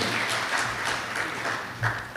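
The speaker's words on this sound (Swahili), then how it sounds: "Pigeni makofi kwa hilo." A crowd at an interfaith peace conference claps together, a dense steady patter of many hands with a few sharper louder claps near the end, alone without speech.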